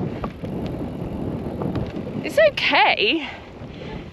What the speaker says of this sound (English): we're at the lake and it's really windy